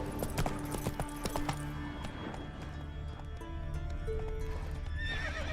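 Roach, a horse in The Witcher 3 video game, whinnies while hooves clip-clop, loud and close, with a steady game soundscape underneath.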